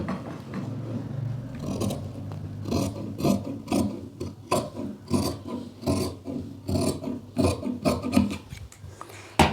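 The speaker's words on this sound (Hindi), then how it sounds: "इस तरह से ये हमारी कमीज की कटिंग हो जाएगी" Scissors cut through fabric for a kameez in a run of rhythmic, rasping snips and rubbing strokes, close and fairly loud, with no talk.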